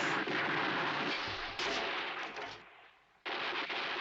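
Rapid gunshots from a 1969 western movie, a dense sustained volley of loud overlapping shots that briefly thins, drops away, then resumes abruptly at full strength.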